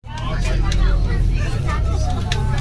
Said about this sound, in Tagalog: Maingay dito sa bus.